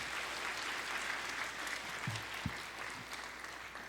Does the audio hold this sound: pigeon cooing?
no